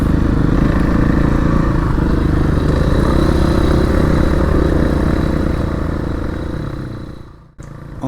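A dirt bike engine roars loud and close while crossing a bridge, with rattling clatter throughout, then drops off sharply near the end before picking back up.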